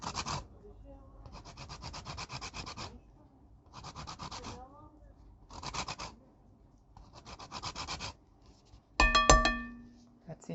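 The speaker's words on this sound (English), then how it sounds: "So just grate a little bit." Something is grated by hand for a chocolate cake, heard as close, scratchy rasping strokes in several short bursts with pauses, ending with a sharp knock.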